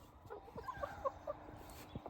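Backyard chickens clucking in short, soft bursts over about two seconds on a rural property in Canada, fairly faint with no talking.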